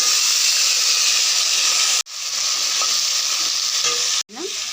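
Figs and potatoes frying in hot oil after a spice tempering, a loud, dense, continuous hiss and sizzle close up, cut by two brief pauses before resuming.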